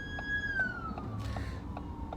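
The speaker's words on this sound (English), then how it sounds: "here comes an ambulance while I'm driving, so I'm pulling over safely" An ambulance siren sounds while the car drives slowly, a steady wailing tone gliding gradually lower over a rumbling road and engine bed, moderately close and continuous throughout.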